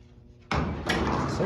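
Heavy Montgomery freight elevator doors being pushed shut, a sudden loud broadband rumble and clatter starting abruptly and sustaining with a second surge, following near-silence; close and forceful.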